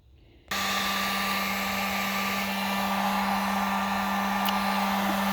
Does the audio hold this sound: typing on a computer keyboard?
no